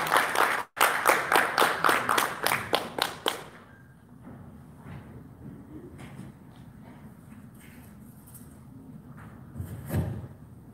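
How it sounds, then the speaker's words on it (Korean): Conference attendees clap to welcome a presenter, roughly a dozen distinct claps ringing out rhythmically in the opening seconds before fading into a quiet room with faint shuffling and a soft thump near the end. "큰 박수로 맞아주시기 바랍니다."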